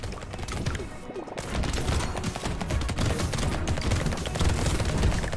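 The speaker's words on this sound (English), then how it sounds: "Rocket launcher's doing some work, I will say." Rapid bursts of explosive weapon fire from a rocket launcher in the top-down arena shooter Brotato, densely layered and continuous at steady loudness, with blasts overlapping one another throughout and no talking.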